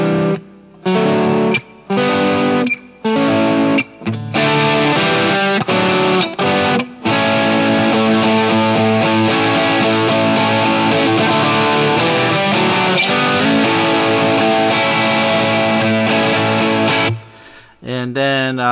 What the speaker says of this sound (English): which is basically it's distortion, that's all, and you're still playing the same shapes